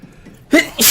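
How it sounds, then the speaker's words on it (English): A single short, breathy sneeze bursts out sharply in a quiet moment, followed by a brief noisy exhale, from a soldier in a heavily modded XCOM 2 game. "That was a sneeze."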